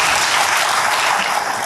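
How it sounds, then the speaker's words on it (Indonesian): Church congregation applauding during a sermon, dense loud clapping from many people filling the space without pause. "Berikan tepuk tangan bagi Tuhan."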